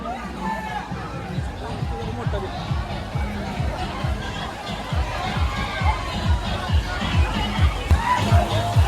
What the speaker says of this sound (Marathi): केवढी गर्दी आणि आता आपला नंबर कधी लागायचा?